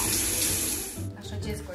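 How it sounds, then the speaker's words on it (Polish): Shower water running steadily with a bright, hissing spray that cuts off abruptly about a second in, leaving quieter splashing and drips. "ja właśnie biorę prysznic"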